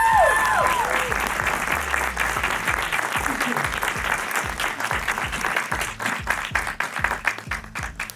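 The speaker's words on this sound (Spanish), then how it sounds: "Un aplauso, por favor." Sustained audience applause greets a film director walking in, a broad steady roar of many hands, fairly loud, with a brief tonal sound at the start and voices faintly mixed in beneath.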